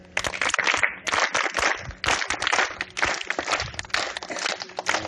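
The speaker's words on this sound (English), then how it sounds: "We clap for God." Schoolchildren at an assembly clapping in uneven bursts, close and loud, with scattered claps and scuffing movement and a few shouts mixed in.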